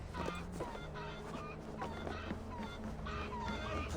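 Chickens clucking in Assassin's Creed Valhalla, a Viking-era village scene: faint, scattered fowl calls scattered over a busy game ambience, fairly distant and low in level.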